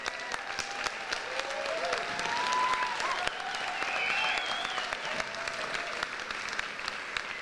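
An audience at a Maui school hall applauds steadily and evenly for several seconds, a dense wash of many hands heard at moderate distance with no voices standing out.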